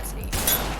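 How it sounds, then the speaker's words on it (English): A scoped bolt-action sniper rifle in the video game Ragdoll Universe fires a single loud, sharp shot that booms and then trails off under a steady background. "At number 7, I'm gonna go with the sniper rifle."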